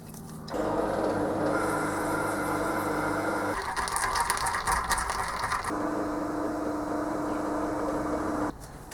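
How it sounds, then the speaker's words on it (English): Ratchet wrench unbolting and rebolting parts of a Scotch yoke build in a workshop, giving a steady clicking, grinding mechanical rattle that swells into a brighter, denser burst midway before settling back, close and fairly loud, with no talking. "I'm unbolting and rebolting a lot"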